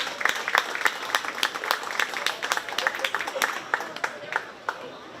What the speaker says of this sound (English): Let's give all 3 of these kids and the young lady in the middle a big round of applause.